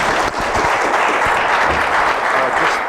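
Sustained audience applause, loud and close, with dense steady clapping filling the whole stretch.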